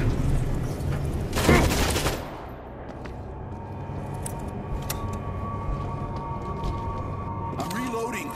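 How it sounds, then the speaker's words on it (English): Automatic turret in World War Z firing a loud burst of gunfire for about a second amid game noise, then fading into quieter ambient background with scattered faint hits. "Auto turret!"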